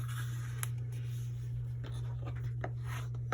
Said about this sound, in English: Now I'm just going to fold all of my paper in sets of 4 to make my signatures.